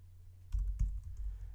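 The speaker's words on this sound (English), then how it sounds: "and if I start typing" Quick typing on an iPad's on-screen keyboard into a search field: a short burst of soft, close taps and clicks in an uneven rhythm over low background hum, with no voices present.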